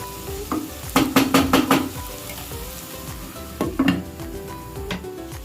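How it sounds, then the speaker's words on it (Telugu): Spices and tomatoes for a fish curry sizzling in a pan as they are stirred, with clusters of sharp utensil scrapes and clinks against the pan over the continuous frying hiss. "ఈ 3 వేసాక ఇప్పుడు కొద్దిసేపు మిక్స్ చేసి మూత పెట్టేద్దాం."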